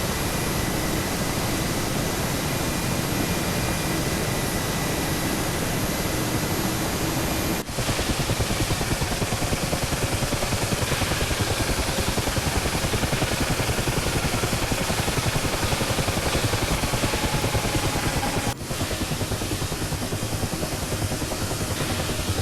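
An Mi-8/17 helicopter in Microsoft Flight Simulator keeps up a constant loud rotor and turbine roar throughout, dense and unbroken, with only brief dips.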